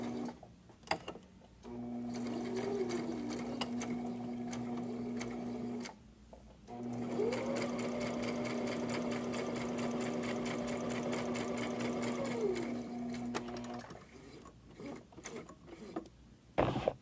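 Sewing machine stitching through felt for a craft flower project runs in two steady bursts of a few seconds each, with brief pauses between them. It is close and moderately loud, and no one speaks.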